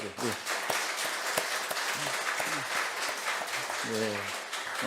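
Applause from a church congregation during a Sunday service, a broad steady wash of clapping that runs under a voice as he keeps talking.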